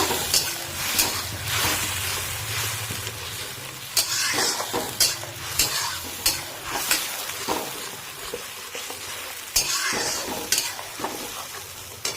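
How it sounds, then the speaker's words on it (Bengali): Chana masala spices fry and get stirred in a pan over high flame, a steady sizzle broken by repeated scraping strokes of the spoon, close and alone with no voices. "এটা কয়েক সেকেন্ড জাস্ট একটু ভাজা হবে, আর তারপরেই এতে আমরা দিয়ে দেব টমেটো বাটা।"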